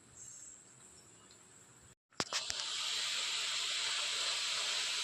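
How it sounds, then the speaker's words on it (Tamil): Fish and brinjal curry with garlic and pepper boils hard on high heat, a steady bright hiss and bubbling that drops out briefly, returns with a few sharp crackles, then settles into a loud continuous sizzle with no talking. "அடுப்பை ஹையிலே வச்சுக்கணும் நல்லா கொதிச்சு அந்த கத்திரிக்காய் கொஞ்சம் இன்னும் கொஞ்சம் வேகணும்"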